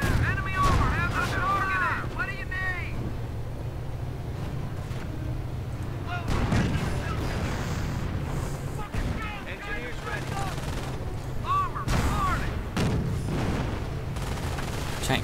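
Tank cannon fire and explosions from a WWII strategy game battle with Sherman tanks, a tank destroyer and a StuG, sounding as repeated booming blasts and gunfire bursts over a steady low engine rumble.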